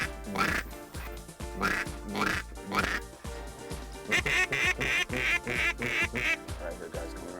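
Repeated loud diver duck quacks and honking calls come in bursts as the ducks fly in, close and overlapping, with a busy rhythmic flurry through most of the clip.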